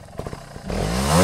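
A trials motorcycle on a practice track gives a few short clattery engine pops, then the revs rise into a loud, steady blip that builds toward the end of the brief clip.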